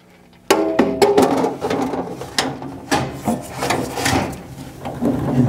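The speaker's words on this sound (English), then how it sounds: "And then we'll put the ash drawer back in." An ash drawer slides back into a pellet stove with a sudden metallic clunk, then a run of rattling, scraping and knocking as it is pushed and seated, close-up with no talk.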